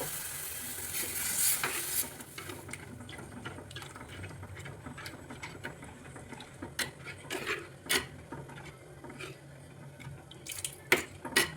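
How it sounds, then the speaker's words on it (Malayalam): Water poured into curry masala frying in a pan, bursting into a loud sizzle that keeps crackling and hissing while a utensil stirs and scrapes in irregular clicks, close by with no talking. "ഞാൻ കുറച്ച് വെള്ളം ഒഴിച്ചു കൊടുക്കും."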